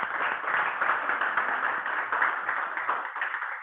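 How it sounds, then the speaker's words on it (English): An audience at a club meeting claps in a steady, dense round of applause, moderately loud and continuous throughout. "a round of applause for her"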